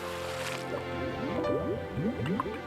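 Cartoon splash of a crab jumping into sea waves, a quick run of bubbly watery plops and gurgles rising in pitch, close and moderately loud with no talk.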